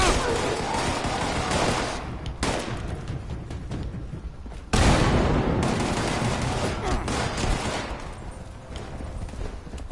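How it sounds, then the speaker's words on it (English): Gunfire fired through a wall in the video game Fallout 76, a loud, dense run of rapid shots that jolts into a sharper burst midway and carries on at steady intensity. "They were shooting through that wall then."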